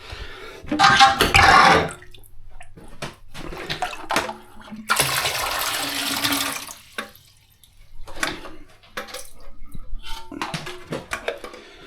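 Water from a lifted-off toilet cistern is poured into the bowl during a bathroom renovation. Two loud splashing gushes, the second long and sustained, are broken by quieter clunks and handling noises, and faint speech is heard.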